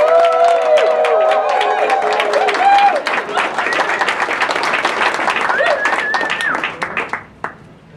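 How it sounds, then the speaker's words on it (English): Loud applause from a crowd at a county Democrats meeting, dense clapping with some cheering and voices mixed in, fading out toward the end. "after a loud round of applause, our County Chairwoman, Peg Schaffer"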